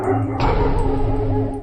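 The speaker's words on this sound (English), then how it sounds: "A dog nearby reacted instantly, barking and growling as if sensing something unnatural." A dog barks and yelps close by in a short, dense burst over a steady low background hum, with a sharp outburst near the start.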